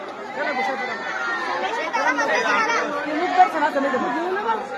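A dense crowd of pilgrims at the Jejuri hilltop temple of Khandoba, with many voices chattering all at once in a steady, close, continuous murmur.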